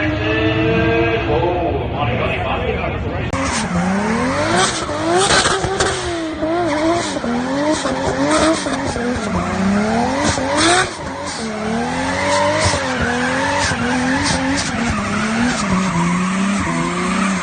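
A 700HP Toyota Supra with a 2JZ engine and a Grannas diff kit slides with long, wavering tire squeals over a loud revving engine, and voices call out over the noise.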